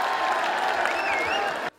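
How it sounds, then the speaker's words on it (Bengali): An audience bursts into loud, dense applause at a student awards ceremony in a hall. The clapping is close and sustained for under two seconds, then cuts off abruptly. "বিরাট হাততালি"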